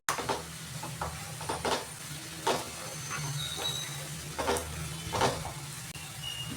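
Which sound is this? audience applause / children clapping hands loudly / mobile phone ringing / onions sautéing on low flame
onions sautéing on low flame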